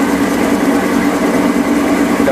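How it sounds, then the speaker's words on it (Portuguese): Continuous motor hum of a rotating sandpaper disc grinder as a metallographic sample is sanded, a steady, even drone with a constant tone and no pauses. "E também eu fico aqui de 5 a 10 minutos lixando esse material."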